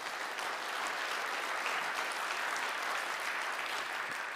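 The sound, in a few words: audience applause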